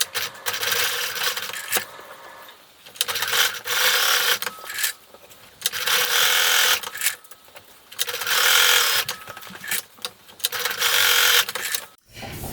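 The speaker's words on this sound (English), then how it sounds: "then you're going to sew the Velcro onto the neckband" Sewing machine stitching Velcro onto a boy's bow tie neckband, running in long, steady, close whirring bursts with brief stops in between.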